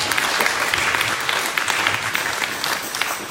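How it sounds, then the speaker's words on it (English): A church congregation claps in dense, steady applause for a few seconds, with no voice over it. "Clap your hands right there."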